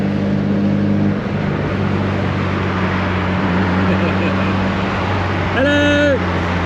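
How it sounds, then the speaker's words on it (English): Cars idle and rumble with a steady low engine drone throughout, including a naturally aspirated engine; a brief rising tonal whine comes near the end, and there is no clear speech. "We're warming up the cars"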